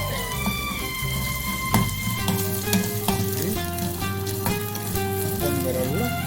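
Onion, cardamom, star anise and a small piece of cinnamon fry in hot oil until golden, giving a steady, close sizzle marked by occasional stirring clinks.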